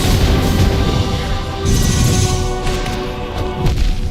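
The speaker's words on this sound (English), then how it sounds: "Watch out for the explosions." Loud, dense bursts of explosions and crashing impacts in the Hollow Knight video game's Path of Pain, booming continuously with surges and swells over layered game sound and no talk.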